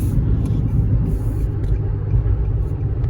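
Deep, continuous engine rumble from a Nissan 350Z driving with gear shifts, steady and close with no clear breaks.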